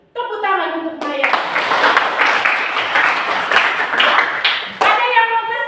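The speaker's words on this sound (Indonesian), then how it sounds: "Tepuk tangan untuk Maya." A class of students clapping for a classmate in a school lesson, a burst of close, loud applause held for several seconds between bits of a teacher's speech at the start and end.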